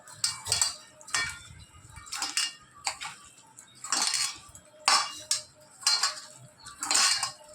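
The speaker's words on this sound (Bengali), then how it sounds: "সর্ষের তেলটা দেওয়ার পরে এবারে এটাকে ভালো করে মাখিয়ে রাখবো, ম্যারিনেশনের জন্য মাখিয়ে রেখে দেবো।" Chicken is mixed by hand with mustard oil in a bowl for marinating. Repeated clinking and scraping of metal against the dish comes in uneven bursts close up, with no talk.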